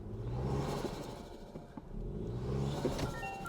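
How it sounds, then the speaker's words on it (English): Engine rumble and revving from a 2025 Toyota Tacoma Trailhunter as a rear tire spins on loose logs off-road, a steady loud drone swelling and easing throughout with no talk. "The back right tire is spinning, but the left back tire is not."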